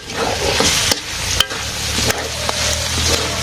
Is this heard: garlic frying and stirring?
yes